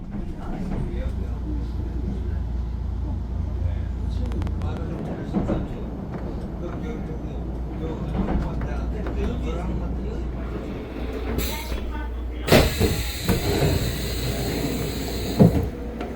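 A Nuriro passenger train on Korea's Donghae Line rolls along with a steady low rumble and rattling, followed near the end by a sharp hiss and clunks.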